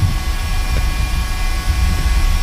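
A jet plane roars through its takeoff roll in the DCS flight simulator. The steady, loud engine noise fills the whole moment with a constant hiss and a low rumble, and no voices are heard.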